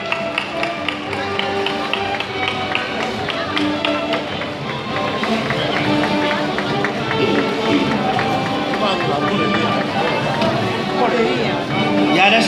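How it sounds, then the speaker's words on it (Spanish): Crowd at a patronal festival in Benidorm applauding, a dense, sustained wash of clapping and cheering that swells and holds for several seconds, loud and close, with voices mixed in. "Un fuerte aplaudimiento."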